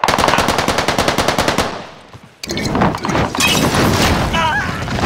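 Rapid automatic gunfire in Call of Duty: Modern Warfare, a loud sustained burst that breaks off, then resumes with dense shots and impacts while a voice talks over it.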